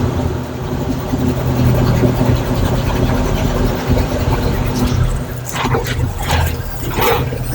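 A 1962 Chevrolet C20 truck with a service bed runs on a new fuel pump while smoking heavily and leaking fuel. Its engine gives a loud, steady, close rumble throughout.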